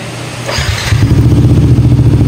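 A Yamaha NMAX V1 scooter with an error 84 fault cranks and catches, then settles into a loud, close idle with a steady low pulsing throb.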